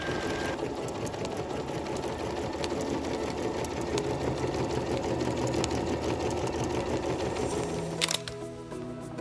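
A Bernina sewing machine fitted with a walking foot runs steadily, a close mechanical whirr and rapid needle chatter that ends abruptly near the close.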